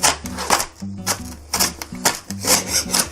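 Knife chopping an onion on a wooden board, a quick uneven series of close, crisp chops with short pauses between bursts, recorded in a home cooking setting.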